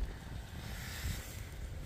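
Steady wind rushes outdoors in snowy February weather, a low buffeting roar against the microphone with no voices.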